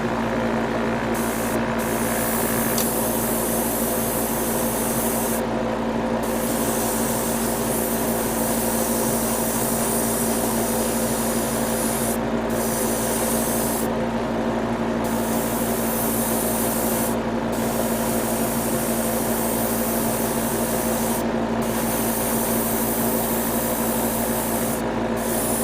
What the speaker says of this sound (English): There's this part that I need to sand off, so I'll take care of that in a minute.